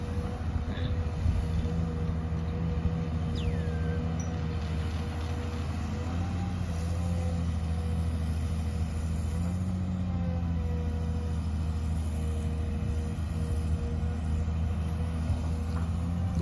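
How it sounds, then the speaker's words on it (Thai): XCMG excavator digging a small canal on a rural Thai farm plot, heard from about twenty metres away: a loud, continuous diesel engine rumble with steady throbbing and faint mechanical whine, no voices. "ดูเจ้า XCMG ขุดคลองเปิดคลองไส้ไก่ครับ"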